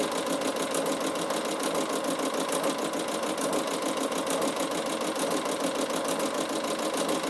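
A Bernina sewing machine fitted with a ruffler foot sews ruffles in a fast, even mechanical chatter that runs steadily and close throughout, with no pauses and no talk.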